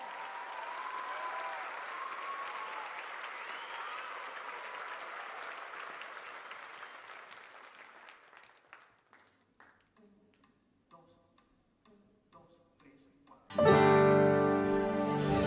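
A theatre audience at a music festival concert applauds, a long wash of clapping that thins into scattered claps, then loud music bursts in at the end.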